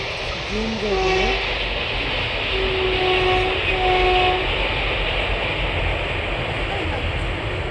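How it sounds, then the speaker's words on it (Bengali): A train passes near the flower fields at Khirai with a low rumbling roll throughout. Its horn sounds two clear times, one near the start and one in the middle. "এই দৃশ্যটাই সব থেকে ভালো লাগে, যেটা হচ্ছে এই ট্রেন যাওয়াটা"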